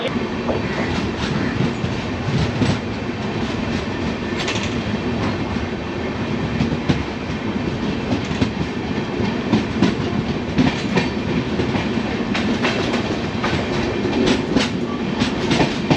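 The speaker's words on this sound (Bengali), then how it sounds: "যাই হোক পৌঁছে গেলাম সেকেন্দ্রাবাদ রেলওয়ে জংশন ট্রেন মোটামুটি ফাস্ট চলে এসছে" The Falaknuma Superfast Express (12703) runs on rails toward Secunderabad, heard from close by as a continuous loud rumble with rhythmic clickety-clack wheel beats and occasional sharp metallic knocks, with no speech.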